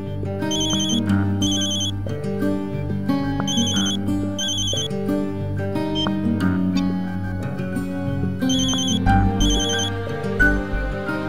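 A phone ringtone ringing repeatedly with no one answering, a loud melodic electronic tone in regular bursts over a steady musical backdrop, with no voices.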